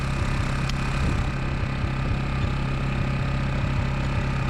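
A Honda EU1000i portable generator idles steadily at close range, its small engine holding a low, even drone with a faint regular pulse and no voices over it.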